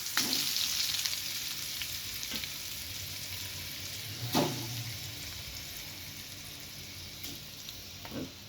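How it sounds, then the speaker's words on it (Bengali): Steady sizzling and crackling of fish frying in hot oil, continuous and close, with a couple of brief louder spatters. "এই যে এখন ভাজা হচ্ছে একটা ভালো করে ভাজবো"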